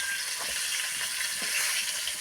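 Pangasius fish frying in a pan in a modest home kitchen, a steady dense sizzle of hot oil with faint spattering crackles throughout, close and fairly loud, no voices.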